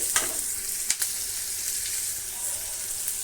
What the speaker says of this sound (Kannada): ಸ್ವಲ್ಪ ಫ್ರೈ ಆಗಲಿ ಈರುಳ್ಳಿ